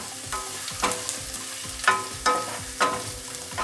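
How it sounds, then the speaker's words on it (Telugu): Onions frying in a pan for a lady finger (bendakaya) gravy, a steady close sizzle broken by regular scraping stirs about once a second, with no speech. "గోల్డెన్ కలర్ వచ్చే వరకు ఫ్రై చేసుకోవాలి. ఆనియన్స్ కొద్దిగా మగ్గాలండి."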